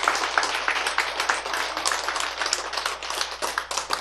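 A lecture audience claps together, a dense run of rapid overlapping hand claps at moderate loudness with uneven surges, and no talking over it.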